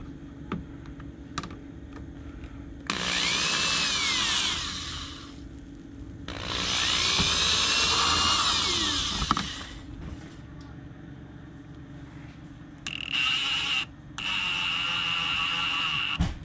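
A power drill drives screws into an aftermarket front lip on a Toyota GR86, with several loud whirring bursts of a few seconds each separated by quieter gaps of clicks and handling noise.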